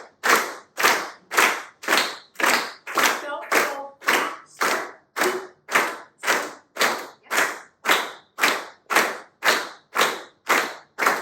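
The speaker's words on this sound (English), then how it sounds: "We're going to clap together." An audience claps together in unison, a steady rhythm of loud, sharp claps at roughly two per second that runs without a break, with no talk over it.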